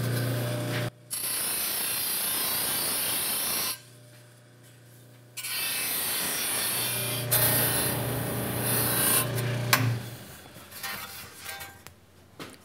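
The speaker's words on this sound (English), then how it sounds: "I will now just dress it up on the Scotch-Brite wheel on the buffer." Sheet metal, cleaned of dross, is dressed against a Scotch-Brite wheel on a buffer, giving a steady loud whirring rasp in two long passes separated by a short pause, then tapering off.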